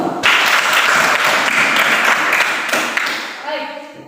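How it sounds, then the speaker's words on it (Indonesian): A classroom of pupils claps together, a brisk, loud round of applause that starts abruptly, holds for a few seconds and then tapers off as a teacher begins to speak. "Ya, tepuk tangan untuk."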